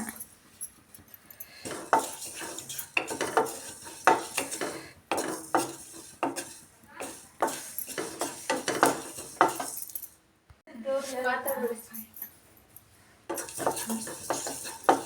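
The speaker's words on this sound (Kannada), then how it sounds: "ಜೀರಿಗೆ ಮೆಂತ್ಯ 2 ಸೇರಿ ಹುರ್ಕೊಳ್ಳೋಣ." Cumin and fenugreek seeds dry-roasted in a pan for onion thokku, with repeated clinks and scrapes of a spoon stirring against the metal pan, close and fairly steady, with a short pause near the end.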